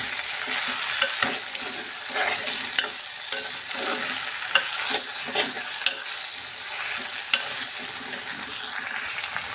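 Potatoes and onion are stirred as they fry in oil in a pan, giving a steady, close sizzle broken by repeated scraping strokes of a spoon, with no talking.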